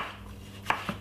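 Knife chopping red pepper for a potato salad, two quick close cuts on a board near the end after a moment of quiet kitchen background.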